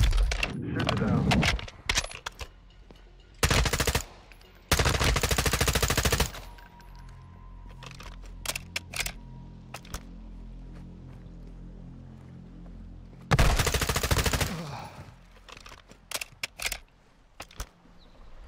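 Bursts of automatic gunfire in the Call of Duty: Modern Warfare II campaign, loud rapid volleys separated by gaps with scattered single shots and clinks in between.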